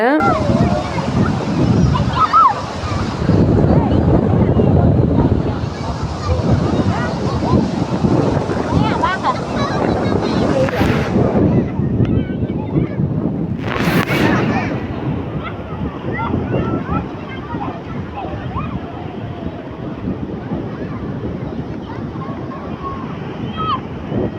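Wind buffets the microphone on a beach in Kandakuliya, Kalpitiya, with waves washing ashore close by, a steady loud roar throughout, and voices of people talking underneath.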